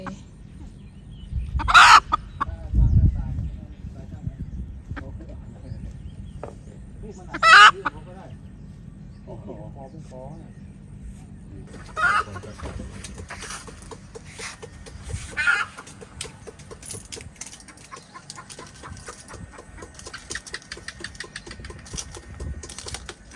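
A hen clucks in short, scattered bursts at an outdoor fishing camp, with a few sharper calls over steady low background noise and light activity.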